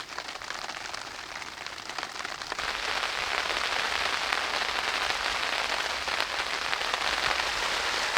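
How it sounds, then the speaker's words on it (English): Rain pattering on a tarp at a wild camp, a steady dense hiss of drops that grows slightly heavier partway through and continues unbroken, with no talking. "Oh, of course it's raining."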